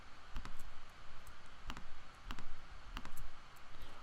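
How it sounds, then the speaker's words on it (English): A computer mouse clicks repeatedly down a list while the Command key is held on a keyboard, giving about eight sharp, close, moderately quiet clicks spaced irregularly with no voices. "I'm just holding down Command on the keyboard as I click down this list."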